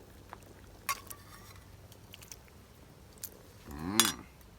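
Metal utensil scrapes and clinks against a pot while shrimp curry with coconut-style vegetables is stirred, a few sparse taps and scrapes followed by a louder clatter near the end, otherwise quiet.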